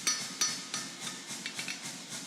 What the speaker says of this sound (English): Now I'm just hitting the one side to flatten the opposite side